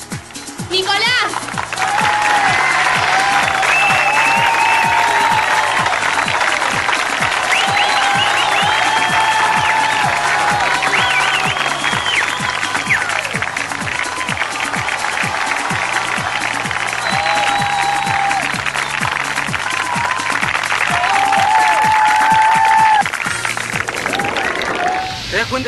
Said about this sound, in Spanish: pido un aplauso muy fuerte para el ganador